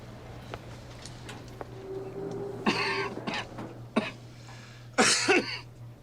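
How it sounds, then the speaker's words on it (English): A person nearby coughs several times in short harsh bursts, with quieter throat sounds between, over a steady low hum in a room. "Cough in your arm."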